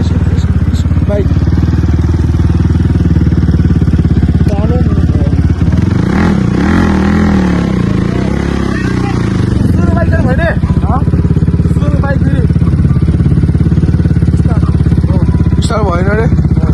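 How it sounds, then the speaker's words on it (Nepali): A Hero motorcycle engine failing to start, with loud continuous mechanical clatter and sputtering close by, and people talking over it throughout. "भएन रे बाइकले धोका दियो फेरि"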